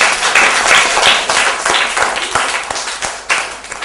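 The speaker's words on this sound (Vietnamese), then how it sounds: "Nào, vỗ tay không bạn?" A class of schoolchildren in a classroom clapping together, loud and close, with dense, continuous applause that thins slightly near the end.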